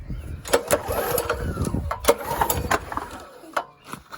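Small pressure washer engine being pull-started, rapid cranking sputters and brief coughs in repeated pulls that do not catch, close by with someone speaking briefly.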